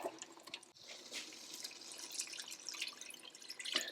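Water trickles and drips into a pan of homemade turkey gravy, three cups in all, a steady splashing pour with small droplet sounds, close and fairly quiet with no talking.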